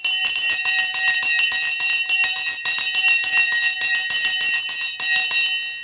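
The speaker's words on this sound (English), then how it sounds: "The bell has gone," Stock market opening bell ringing, a loud, rapid, continuous electric clanging with steady rhythmic strikes and bright ringing overtones, heard alone for several seconds before fading slightly at the end.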